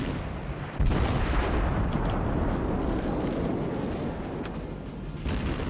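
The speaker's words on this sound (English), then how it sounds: "I want to hit this guy with one final volley and finish him off" A warship's main guns fire a volley in World of Warships: a heavy, booming burst erupts near the start and rolls into a long, loud rumble that stays strong and then swells again near the end, with no speech.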